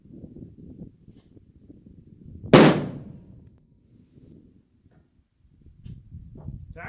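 A single sharp report from a 7mm PRC rifle firing at a 600-yard target outdoors, loud and abrupt with a short decaying tail, amid quiet background rustle and faint distant sound.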